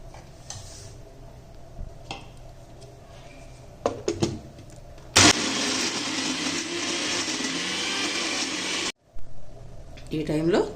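An electric mixer grinder whirs loudly for about four seconds as it blends raw tamarind chutney with tomatoes, set between clinks of the jar, kitchen handling and brief pauses.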